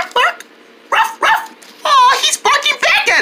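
People imitate a dog barking, voices calling out short bark-like yelps in bursts, close up, with several voices taking turns.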